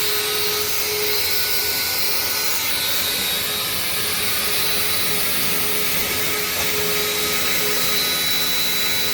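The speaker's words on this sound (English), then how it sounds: "So here comes the plow and the Ego backpack." An Ego electric backpack leaf blower runs continuously at close range, a steady airy whoosh with a faint whine that holds level throughout, alone without talk.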